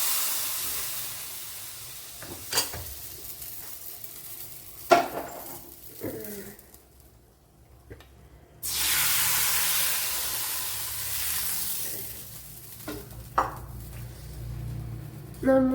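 Hot tempering with fenugreek powder poured into a Kerala sardine curry, a sharp loud hiss and sizzle bursting up and fading over several seconds, with a few clinks of cookware and a voice speaking.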